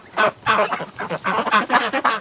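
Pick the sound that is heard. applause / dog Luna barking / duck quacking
duck quacking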